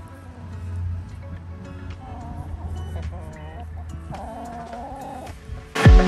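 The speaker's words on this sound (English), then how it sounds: "Bird." Outdoors in the Lyon area of France, a bird gives a series of short, clucking calls at moderate distance over a low background rumble, ending with a sharp, brief noise.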